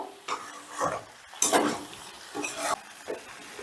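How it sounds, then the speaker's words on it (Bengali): Sugar is stirred into a pan of cooking flat beans with repeated close scraping strokes of a spoon against the pan, about five bursts in quick rhythm over a soft sizzle, with no talk. "এবার চিনিটাও একটু নেড়ে চেড়ে বেশ ভালো করে মিশিয়ে দেবো"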